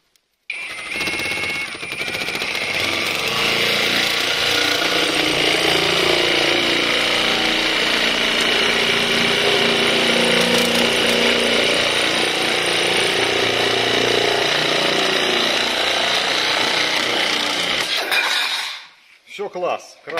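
HEIMERDINGER LB 410 cordless shears cut through sheet metal in a continuous loud, harsh buzzing grind that runs for about eighteen seconds, then cuts off sharply.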